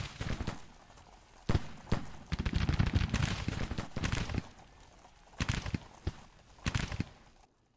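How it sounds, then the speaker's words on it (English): Musket volleys and scattered rifle shots in Grand Tactician: The Civil War, a Civil War strategy game. Sharp cracks come in irregular bursts, some dense and crackling, others isolated, at a moderate distance with short quiet gaps. "I heard somebody else firing, but it's just us for right now"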